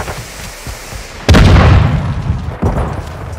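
A Semtex sticky grenade detonates in Call of Duty: Modern Warfare II, one sudden loud close blast with a deep rumbling tail that fades over a second or two, followed by a smaller thump amid battle noise.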